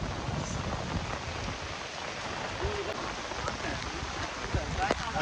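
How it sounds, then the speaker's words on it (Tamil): Steady rain falling in a flooding village in Madduvil, Jaffna, a dense wash of patter with a person talking over it. "அதனால் மழை பெஞ்சோண்டு தான் இருக்கு"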